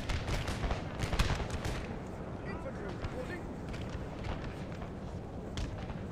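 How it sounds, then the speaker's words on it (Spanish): Rapid British machine gun fire in a video game battle, a dense, continuous rattle of shots with heavy booms mixed in, running steadily throughout at a fairly loud level. "La verdad que la ametralladora británica es de temer"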